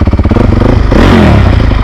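A motorcycle engine runs close and loud with a rapid pulsing beat, then the tone shifts as it revs a little and clatters on, with no talking over it.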